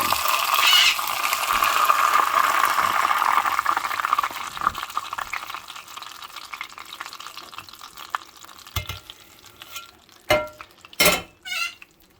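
Cooking oil pours steadily into a container with a continuous liquid rush, then a few sharp clinks of metal ring out near the end.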